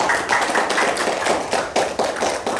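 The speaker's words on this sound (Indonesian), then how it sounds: "Tepuk tangan." An audience at a religious lecture claps hands, a brisk run of sharp, fairly loud claps in uneven bursts that swell and fade over a couple of seconds, with no talking.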